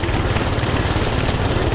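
A Doodle Bug minibike engine runs flat out with its throttle stuck open, a loud, steady, unbroken drone close by with no letup.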